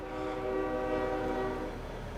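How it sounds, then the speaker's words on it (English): A loud train horn blares in American Truck Simulator, a sustained multi-tone chord holding steady for about two seconds over low rolling rail rumble. "Still is a loud train horn."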